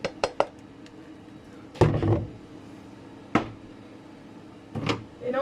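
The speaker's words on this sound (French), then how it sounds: "Et là, je mets les pâtes dans la casserole." Dry pasta tipped into a saucepan while making carbonara for three, heard as a few separate clattering rattles and knocks spread over several seconds, fairly close, with quiet kitchen background between them.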